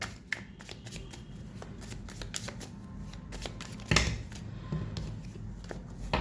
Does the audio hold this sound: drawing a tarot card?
yes